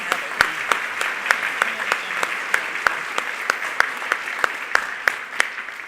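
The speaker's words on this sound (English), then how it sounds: "Let's give all these students a round of applause." A banquet audience claps for scholarship students at a student awards dinner, steady applause with a few sharp individual claps standing out in a regular rhythm, moderately loud and continuous with no talk.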